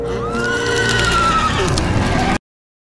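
A horse gives a loud, close whinny with a long, wavering rising-and-falling call, then cuts off abruptly into silence.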